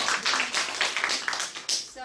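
Students clap for themselves in a classroom, a loose run of quick hand claps spread across the moment, fairly close, with a voice talking over them.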